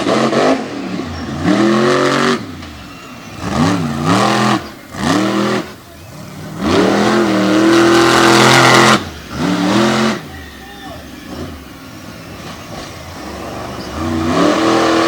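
A racing truck engine on a dirt jump course revs hard in repeated surges, climbing and dropping in pitch as the driver accelerates, lifts and lands over the jumps, loud and close.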